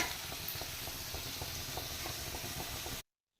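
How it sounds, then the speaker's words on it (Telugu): Rasam boiling in a pot on a home kitchen stove, a steady close bubbling and hissing simmer for about three seconds, then cutting off to silence, with no voices. "సో ఇక్కడ రసం అయితే మరిగింది కదా"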